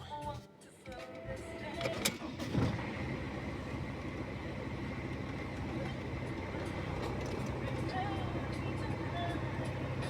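A Mercedes W211 E270 CDI diesel with a 5G-Tronic gearbox cranks briefly and then settles into a steady, close diesel idle rumble that continues evenly to the end, with a voice heard over the start.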